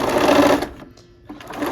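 A sewing machine runs in a steady rapid stitching burst while piecing quilt fabric, pauses briefly, then resumes stitching, close and fairly loud.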